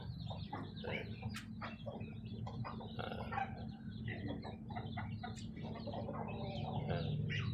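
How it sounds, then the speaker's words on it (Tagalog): Continuous clucking and squawking from a crowd of hens and roosters in a coop nearby, overlapping calls with sharp bursts, lively and unbroken for several seconds. "Tapos dito yung mga inahin tsaka tandang."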